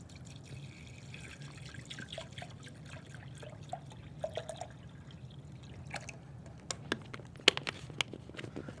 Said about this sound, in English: now that we have all that mixed up, we're going to put water into our machine.